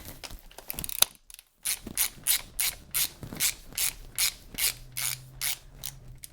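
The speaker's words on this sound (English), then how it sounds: "Let me see if I can get the ratchet back on this thing." A hand ratchet clicks in steady, evenly spaced strokes while working on a BMW DCT transmission during a fluid service, loud and close, with a brief pause early on.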